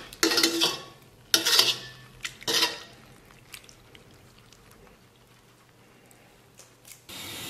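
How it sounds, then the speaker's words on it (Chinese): Boiled pork skin is tipped into a cooking pot with three loud, splashy clattering bursts early on, followed by quieter scattered clinks and light knocks. "咱们把这个猪皮，熬好的猪皮给它倒到这个锅中"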